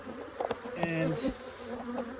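Honey bees buzz steadily around an open Flow Hive, a dense hum with a few louder passes close by and brief handling knocks, a single spoken word barely audible.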